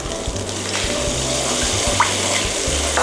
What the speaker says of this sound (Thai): จากนั้นนะคะ เราจะใส่กะทิลงไปค่ะ